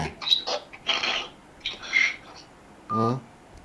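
A telephone call is dialed in a sequence of short electronic key tones. The beeps come in irregular bursts separated by brief pauses, fairly close and clear against a quiet background.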